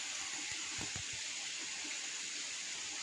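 Water flows from a pipe straight into a well as a constant, low-level rushing wash, with a couple of soft splashy thumps early on. No one speaks.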